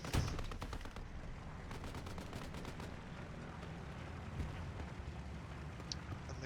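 Rapid bursts of machine gun fire from a Hell Let Loose match, rattling steadily for several seconds at moderate distance amid ongoing battle noise, with a sharp crack near the start.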